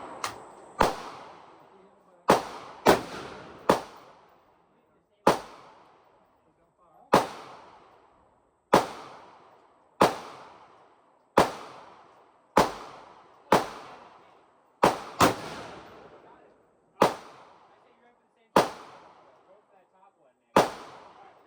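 Glock 23 pistol shots at a shooting range, about seventeen sharp, loud cracks fired in an uneven series with short echoing tails and brief gaps between them.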